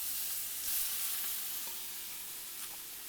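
Halloumi and peaches sizzle in a hot pan, a steady broadband frying hiss with faint crackles throughout and no voices.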